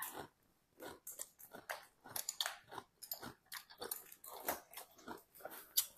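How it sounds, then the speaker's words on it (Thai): Close, quiet crunching and chewing of shrimp with their tails still on, eaten in a spicy Thai seafood salad, in irregular bites with soft crackles and pauses. "อ้กุ้งเนี่ยหางมันเราก็ไม่ต้องไปเด็ดมันหรอกกินได้ผมกินได้เคี้ยวให้แหลก ๆ"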